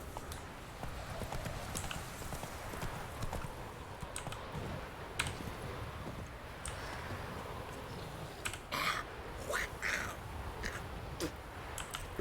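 Roach the horse's hooves clip-clopping in The Witcher 3, faint steady hoofbeats along with scattered clicks and light ambient game sounds, no clear talk.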